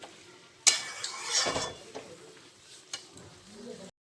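Cabbage curry with potatoes and dried fish is stirred in an oily pan, a spatula scraping and clattering at close range over a soft sizzle, with a sharp knock at the start and scattered taps.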